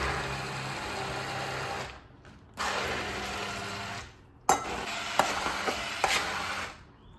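A blender purees 5% fat cottage cheese with one egg, its motor whirring in steady bursts. It stops briefly between pulses, and a few sharp knocks follow in the last run.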